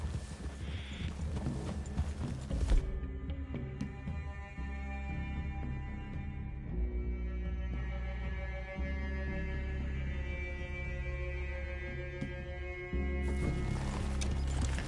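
Horses' hooves clip-clop in Red Dead Redemption 2, a steady walking rhythm of soft hoof beats over a low hum, moderately loud and continuous, with no talking.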